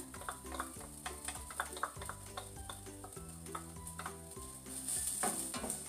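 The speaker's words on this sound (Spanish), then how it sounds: "Vamos a dejar que la cebolla se fría bien hasta que quede transparente." Chopped onion fries in hot oil with a steady, fairly quiet sizzle and crackle, punctuated by light scrapes of stirring, heard close up with nobody speaking.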